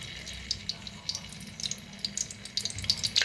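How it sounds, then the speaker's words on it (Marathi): Mustard seeds and cumin sizzle and crackle in hot oil in a home kitchen pan, with a steady frying hiss and scattered small pops growing denser toward the end. "तेल चांगलं गरम झालंय ज्या टाकल्या मोहरी अर्धा चमचा मोहरी घेतलेल्या आहे"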